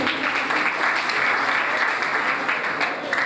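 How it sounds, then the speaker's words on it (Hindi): Steady, dense applause from a crowd at a Brahmin community welcome ceremony in a dharamshala, loud and continuous from start to finish without a break. "तालियां बजा दो।"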